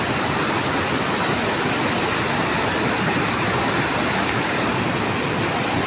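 A rushing, swollen river pours beneath a bridge, making a loud, unbroken roar of turbulent water that stays steady throughout with no other sounds.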